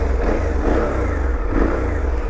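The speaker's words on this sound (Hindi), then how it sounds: "एक अलग ही पैरेलल ट्विन इंजन की जो साउंड आती है अलग ही आ रही है।" A Triumph Scrambler 400X motorcycle's parallel-twin engine revs in neutral, a loud, close, continuous rumbling exhaust note from the silencer with slight swells in pitch, no talking.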